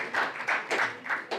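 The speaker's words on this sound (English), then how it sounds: "You can clap if you want to clap." Guests at a real estate book launch dinner clap in a few uneven bursts of hand claps, close and moderately loud, rising and dipping in quick succession.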